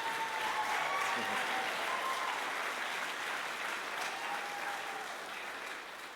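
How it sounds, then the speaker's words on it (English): Sustained audience applause fills a hall at a school athletic hall of fame ceremony, broad even clapping from a crowd that slowly tapers toward the end, with faint voices underneath. "another round of applause"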